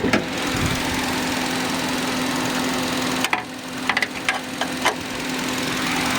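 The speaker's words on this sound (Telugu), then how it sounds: "మీకు ఏసీ రన్నింగ్లో ఇంజన్ సౌండ్ వినిపిస్తున్నాను నేను." A car fitted with an LPG kit idles with its air conditioning running, a loud, steady, close engine drone with a constant hum, interrupted midway by several brief clicks and knocks.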